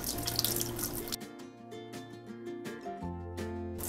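Vinegar water drains through the spigot of a kombucha brewing container, a close trickle and splash with rhythmic dripping and gurgling pulses, steady and moderately loud with nobody speaking.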